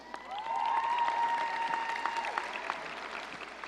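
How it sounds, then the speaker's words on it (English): Families and friends applauding at a 2018 school graduation ceremony, sustained clapping across a large crowd with a steady tone ringing through the hall, fading slightly toward the end. "Students, give them a round of applause."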